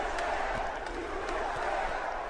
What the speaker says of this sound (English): Screaming USA.